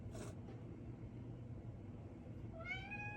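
A house cat meows nearby in an indoor room, with one short rising call near the end over steady low background hum.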